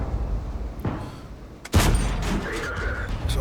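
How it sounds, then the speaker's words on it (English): A tank cannon fires at an IS-3 in World of Tanks, one loud, abrupt, booming shot followed by a rumbling tail over constant engine and battle noise. "Tries to shoot the top off the IS-3."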